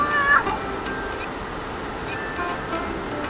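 A cat meows once, short and clear, as a sound effect in a children's bedtime story, followed by quiet steady ticking under a faint background hiss.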